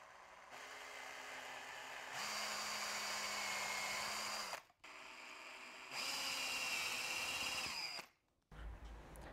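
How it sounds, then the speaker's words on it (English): A power drill bores holes into a workbench for a bench vise, whining in two long bursts separated by a short pause, fairly close, with a brief clunk at the end. "All right, let's drill it out."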